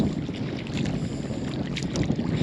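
A kayak moves through estuary shallows on a windy coast, giving a loud, constant rush of wind and water with soft splashy swells and no speech.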